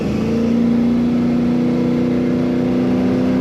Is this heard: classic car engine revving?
yes